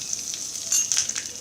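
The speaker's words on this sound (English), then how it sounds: "Once this starts to splutter, we will add in our cumin seeds or jeera." Cumin seeds (jeera) splutter in hot oil, a close, bright crackling sizzle with scattered little pops over a steady hiss.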